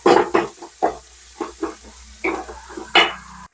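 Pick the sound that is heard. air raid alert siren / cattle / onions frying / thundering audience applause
onions frying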